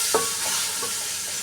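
Chicken pulao masala with broth bubbles and sizzles steadily in a pot while a spoon stirs it, giving a couple of soft scraping strokes over the constant hiss.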